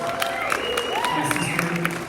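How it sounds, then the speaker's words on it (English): An audience at a poetry festival applauding poet Rachel McKibbens, scattered claps ringing out over a voice talking above the crowd. "Can we give her another round of applause?"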